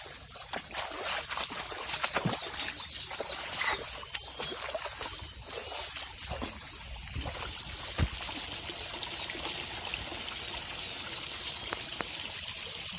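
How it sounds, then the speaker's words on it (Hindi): Waterfall near Delhi NCR, water falling and splashing in a steady broad rush with trickling and pouring detail, fairly faint and continuous with no talk. "जब ऐसे पानी गिरता है तो इतनी प्यारी आवाज आती है"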